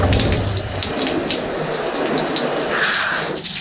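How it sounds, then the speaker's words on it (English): Water runs steadily from a hose nozzle during wet sanding of car paint with 1500 grit paper on hail damage repair, a close continuous hiss and splash. "Always like to use just a water nozzle."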